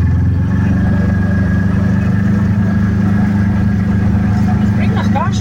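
A car engine idles steadily and loudly up close, a constant low rumble throughout with no talking.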